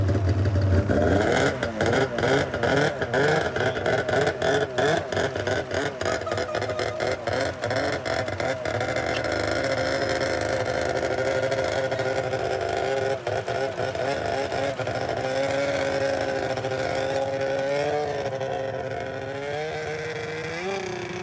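A snowmobile engine, just recovered after being sunk in a lake, runs steadily and close by, with a brief roughness early on and then an even, throbbing idle that wavers slightly in pitch, no voices.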